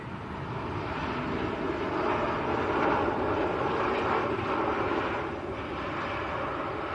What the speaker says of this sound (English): this is November Fox, Jet2's A321neo from Preveza